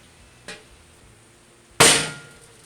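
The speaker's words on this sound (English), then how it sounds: "Before drilling, we need to start our hole with a starter punch" Two sharp metallic taps, a light one followed by a louder ringing strike, a starter punch hammered into a metal grill before drilling, in an otherwise quiet space.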